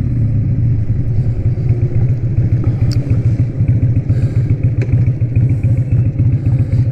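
Harley-Davidson Sportster 1200 motorcycle engine under way on a ride, a loud, steady low throbbing rumble with dense rapid firing pulses throughout and no talk.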